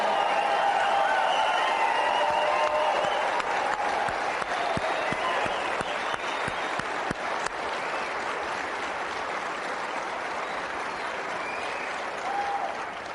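A large crowd at a Tea Party Patriots Summit applauds in a dense, continuous roar of clapping and cheering that holds steady and tapers slightly toward the end.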